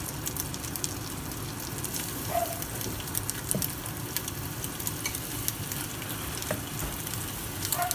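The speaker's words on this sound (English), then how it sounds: "now it's time to brown our beef short ribs" Seasoned beef short ribs browning in hot oil, a steady, dense sizzle and crackle with a few small pops throughout, close and even in loudness, with no voices.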